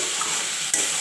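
Peas and sponge gourd stirred in a hot pan, a soft continuous sizzle with a brief scrape near the end, close and alone.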